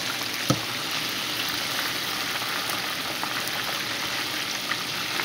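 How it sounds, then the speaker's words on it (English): Bluegill fish fries in hot grease, Mississippi style, giving a steady, even crackling hiss with a few soft pops. "Let's get this bluegill, keep her in the grease."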